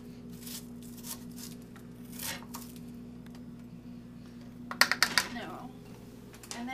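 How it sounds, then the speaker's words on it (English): A knife chops an onion on a board in a home kitchen, a short burst of four or five quick, crisp taps near the end, with faint background hum and a few soft clatters earlier. "I just like to chop the onion, and not too fine"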